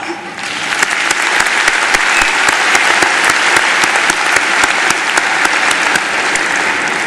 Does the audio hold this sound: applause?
yes